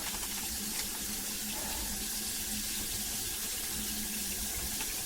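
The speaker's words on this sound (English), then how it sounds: "It'll take a minute to fill the P-trap." Water from a tap runs steadily into a kitchen sink with a newly replaced drain and P-trap, a continuous close splashing rush with no break.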